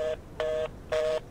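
Three evenly spaced electronic tone pairs from a telephone keypad being dialed in a video game, each clean steady beep lasting about a quarter second with short gaps between, close and with no talk.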